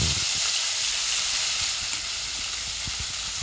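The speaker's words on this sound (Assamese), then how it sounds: "এতিয়া যিখিনি পেষ্ট বনাই লৈছিলোঁ সেইখিনি তেলতে দি দিম" Spice paste hitting hot oil in a wok gives a loud, steady sizzle that holds unbroken throughout, close up with no voices.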